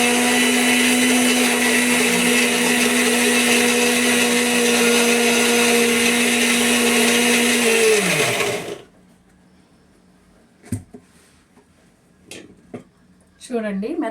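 A mixer grinder coarsely grinds ingredients with a loud, steady high whine for about eight seconds, then spins down and stops, leaving faint clatter and brief sounds afterward.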